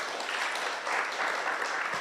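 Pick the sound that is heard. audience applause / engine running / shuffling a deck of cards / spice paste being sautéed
audience applause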